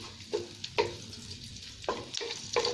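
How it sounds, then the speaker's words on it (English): Garlic and onions fry in a hot pan with a soft, steady sizzle, broken by several brief scraping stirs at irregular intervals. "so we're gonna fry the garlic now."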